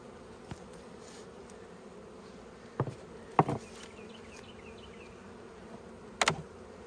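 Honey bees buzz in a steady, close, low drone throughout a hive inspection, broken by a few sharp clicks and knocks.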